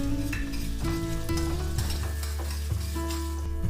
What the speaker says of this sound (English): Now add the puree of 1 tomato and let the tomatoes cook well.